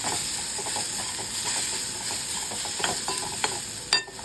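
Garam masala powder and salt are stirred into a wet cashew curry in a hot pan, producing a steady sizzling hiss with scattered scraping strokes, a louder scrape near the end.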